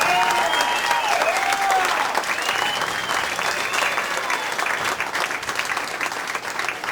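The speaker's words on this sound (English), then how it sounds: "You stood up, and you should give yourself a round of applause." Loud sustained applause from a large audience at a 9/11 tribute event, dense continuous clapping with crowd cheering and whistles mixed in, filling the space throughout.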